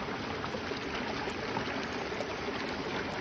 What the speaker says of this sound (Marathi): बघा पाणी इथं येते.